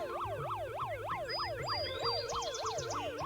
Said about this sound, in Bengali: এই তো অ্যাম্বুলেন্স আসলে